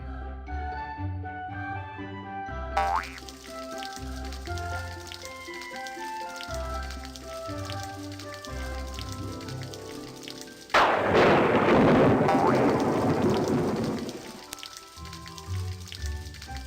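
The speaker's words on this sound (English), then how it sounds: "Tap and hold the clouds to make it rain" Soft patter of rain in a Little Red Riding Hood iPad story game, with gentle background music and a sudden heavier downpour swelling loud for a few seconds before easing off.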